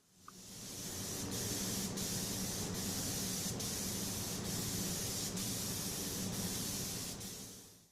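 A spray gun lays a light, misty blending coat of car paint on a 2013 Cadillac Escalade panel, making a close, continuous hiss that starts softly, holds steady with faint periodic ticks, and tapers off at the end.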